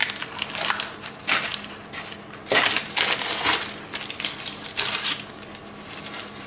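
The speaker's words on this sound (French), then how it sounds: "On va venir couper une petite tranche ici." A knife slices through a roast of monkfish wrapped in bacon, giving a series of close crunchy cutting bursts and scrapes against a board, uneven in rhythm, with no voices.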